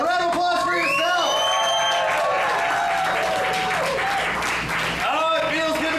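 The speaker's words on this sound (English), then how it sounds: "Round of applause for yourself." A live audience at the Dottie Dirk Zombie Den in North Minneapolis breaks into loud, sustained applause with cheers and whoops, while a voice talks over the clapping throughout.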